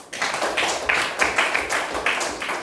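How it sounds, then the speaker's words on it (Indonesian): Schoolchildren in a classroom clap for a fellow student, producing a ragged run of fairly close hand claps in uneven bursts that swell and fade over a couple of seconds. "Tepuk tangan buat Kak"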